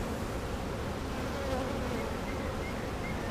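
Honey bees hum and buzz densely inside a beehive, a steady close-up drone that continues without pause.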